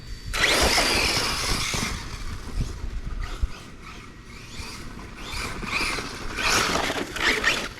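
An Arrma Kraton 6S electric RC car launches at three-quarter throttle with a rising high whine and gravelly tire scrabble, fading then surging again in a second loud burst.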